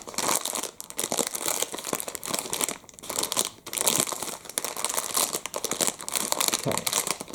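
Crinkly chocolate wrapper crumpled and twisted close to the mic, a dense, continuous crackling with brief pauses, bright and crisp throughout, no talking.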